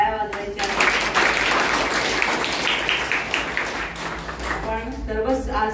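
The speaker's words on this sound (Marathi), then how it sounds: "जोरात टाळ्या वाजवायच्या" Loud crowd applause on Independence Day, 15 August, marking the 75th celebration, as dense clapping runs steadily for several seconds and mixes with voices throughout.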